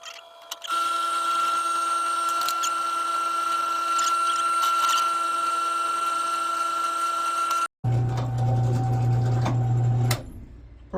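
A drill press runs in a workshop with a steady mechanical whine and hum, nearly continuous for several seconds, then cuts out briefly before a rougher, louder run with a low drone resumes near the end.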